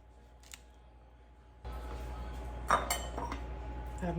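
A favorite pasta bowl is handled and set down with a few light dish clinks, starting quietly and then joined by clattering of plates and utensils in a kitchen.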